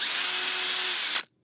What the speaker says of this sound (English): I show you how to drill for the hinge part here at 35 millimeters